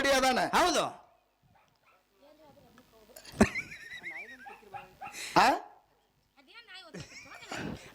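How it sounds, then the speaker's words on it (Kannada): A dog barks and whimpers in short bursts alongside horse-like neighing calls, loud and close, with people talking in between. "ಆ ನಾಯಿ ಹಿಡ್ದಾರೆ ಕಟ್ರಿ ಅದು ಬಾಯಿಗೆ"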